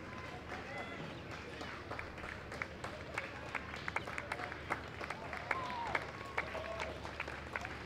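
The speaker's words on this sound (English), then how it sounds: "So a big round of applause for Reese Higgins from Norwood Secondary College as he finishes his 800." Crowd applause at the 2018 Victorian All Schools Track & Field Championships after the men's para 800 metres: steady, distant clapping from spectators in an open stadium, with sharper individual claps standing out.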